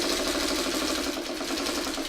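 Vintage Singer 301A sewing machine stitching: a steady, fast mechanical whirring hum with a rapid rhythmic needle chatter, continuous and close, no pauses.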